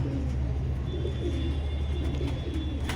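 A Safed Asilgola Baynzeer high flyer breeding pair of pigeons coos close by. Their low, soft, rolling calls repeat steadily over a constant background hum, with no speech.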